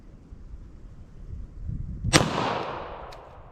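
A single sharp gunshot from a .40 S&W pistol firing a heavy 200 gr Underwood Nosler JHP round cracks out loud and close, then rings out in a decaying echo, with faint background noise before it.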